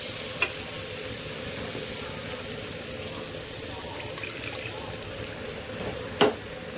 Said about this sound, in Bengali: আমি একটু একটু করে জল দিয়ে মশলাটা কষাবো।